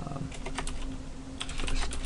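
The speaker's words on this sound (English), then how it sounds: "Let's type in jlabel." Quick, light keystrokes on a computer keyboard while writing Java Swing code, a soft irregular patter of clicks close to the microphone, slightly louder toward the end.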